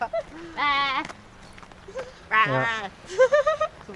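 Close, wavering bleats from a human voice imitating a sheep, three separate calls with brief pauses between them.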